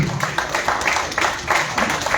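At an annual literary festival in Ayodhya, a seated audience applauds steadily, producing a dense wash of clapping that stays loud and continuous throughout.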